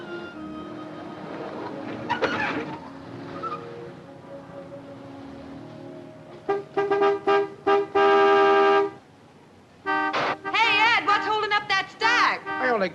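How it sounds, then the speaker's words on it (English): Car horn honking in a 1950s film scene: repeated loud, blaring toots in several bursts, some long and held, with dialogue heard before them and the honks then sounding mostly on their own. "Some horn-happy creep just pulled in. Let him honk."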